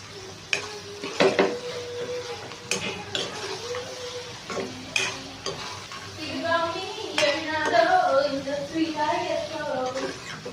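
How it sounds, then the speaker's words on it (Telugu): Spicy egg curry frying in a pan sizzles while a spoon stirs and knocks against the metal in repeated clattering scrapes, with a voice talking over much of it. "ఇలాగ మనం ఫ్రై చేసుకుంటాం ఇప్పుడు మనం అంతా మిక్స్ చేసుకుందాం"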